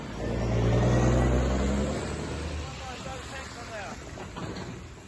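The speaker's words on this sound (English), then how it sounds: "truck now leaving. V8. Oh, look at the sound of that" A V8 truck engine pulls away, its deep rumble loud at first and then gradually fading into the distance as the vehicle drives off.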